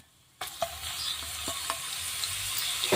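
Crushed garlic, mustard seeds and cumin hit hot oil with a sudden loud sizzle that keeps hissing and spluttering, with a few sharp pops and stirring scrapes close by.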